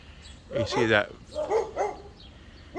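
Dog barking in a backyard outside a house in Baileyville, Kansas, several loud, close barks in quick bursts with pauses between them, filling most of the short stretch.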